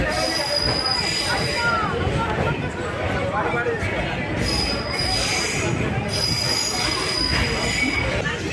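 Krishna Express train wheels rolling on rails in a loud, steady rumble with high metallic squeals, heard from inside a crowded unreserved coach with voices mixed into the din.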